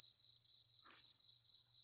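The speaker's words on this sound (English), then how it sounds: "You hear them crickets?" Crickets chirping as a sound effect, a steady high pulsing trill in rapid regular bursts, clear and alone.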